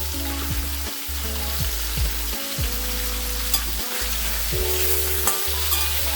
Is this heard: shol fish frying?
yes